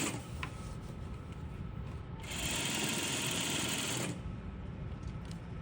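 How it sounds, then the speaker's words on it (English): A sewing machine runs steadily, stitching a flat-felled seam at 3/4 inch, close and continuous with a fast mechanical whir, briefly rising to a louder, brighter hum in the middle before settling back. "I'm going to sew it at 3/4 inch for this purpose, to learn how to use it."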